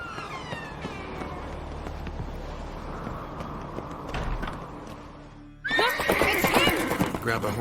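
A horse in the Witcher 3 video game whinnies clearly and loudly, its neigh rising over a bed of hoofbeats and game ambience, and a louder burst of action sound follows near the end.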